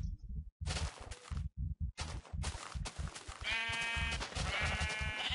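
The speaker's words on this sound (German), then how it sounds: "Schaf, die müssen wir unbedingt töten." Sheep in a video game bleat repeatedly over a steady rhythmic thumping game soundtrack, the bleats loud and close, with a held wavering cry near the end.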